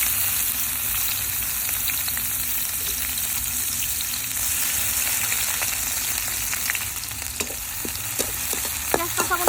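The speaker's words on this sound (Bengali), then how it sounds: "কড়াই তেল দিয়ে দিলাম পেঁয়াজ কাঁচামরিচ" Onion and green chilies fry in oil in a karahi, giving a dense, steady sizzle and crackle close by, with stirring scrapes and light clicks growing busier toward the end.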